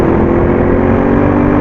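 A Yamaha XSR 700 motorcycle engine pulls hard under throttle on an open road, a loud, close, steady drone with a constant tone through the short stretch, no talk.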